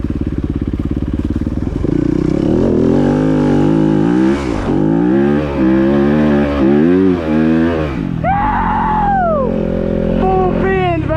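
Dirt bike engine roaring loud and close up a wet hill climb, revving and bogging through the gears, then a pitch-swooping whine as the throttle blips near the end.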